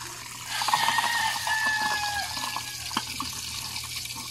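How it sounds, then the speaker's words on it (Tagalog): Water running and splashing over a freshly etched DIY amplifier circuit board to wash off leftover ferric chloride, a steady close trickle with small drips and a brief clatter, no talking. "ugasan natin siya ng tubig"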